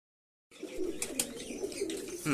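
Pigeons coo in a loft where grown chicks with feathers sit, soft repeated throaty coos heard near and moderately quiet through slight playback hiss, beginning after half a second of silence.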